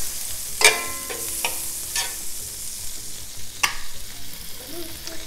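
A tablespoon of butter sizzles in an already hot pan, a soft, steady fizz broken by a few sharp utensil clinks and scrapes, heard close with no voices.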